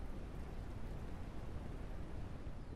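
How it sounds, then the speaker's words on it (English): Heavy rain pours in the video game Ranch Simulator as a dense, unbroken roar that stays steady throughout, with no talking. "Oh, it's really raining."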